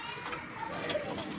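Teddy pigeons, a mix of males and females in a Punjabi bird loft, cooing softly and at a distance, low murmuring calls blending into a quiet room ambience.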